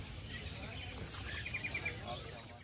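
Small birds chirp and tweet at a bird market in Jogja, with fairly faint high calls over a low background murmur.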